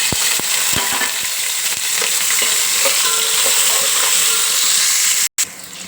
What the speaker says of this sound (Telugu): రైస్కు సరిపడా అండ్ ఉల్లిపాయ త్వరగా వేగడానికని ముందే వేసుకుంటున్నాం.